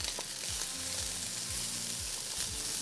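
Onion sizzling on a hot grill, a steady close frying hiss with scraping stirs and faint low tool movements recurring every half second or so, no talk over it.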